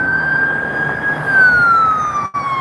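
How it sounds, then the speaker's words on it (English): An ambulance siren wails steadily as it passes, its pitch slowly falling while the vehicle moves away, with road traffic rumbling underneath. "And there's an ambulance."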